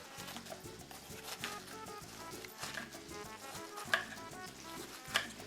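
Tilapia fillets fry in a pan with a steady, crackling sizzle that runs throughout, punctuated by a couple of sharp clinks near the end.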